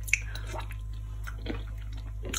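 Someone chewing a mouthful of Thai noodle salad with small rice noodles and pork ear, giving soft, wet, intermittent squishy bites close up over a steady low hum, with no talking.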